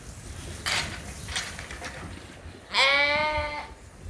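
Lambs on a farm bleat while running laps: a few faint scuffling bursts, then one loud, drawn-out, quavering bleat close by lasting nearly a second.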